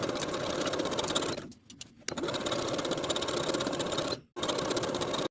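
Domestic sewing machine runs a blind hem stitch along the bottoms of wide-leg pant legs, a steady close whirring buzz with two short pauses before resuming at even speed.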